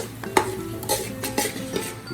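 Onions fry in a pot as a utensil stirs them, giving repeated scraping strokes at an uneven rhythm over a soft, steady sizzle, close and fairly quiet.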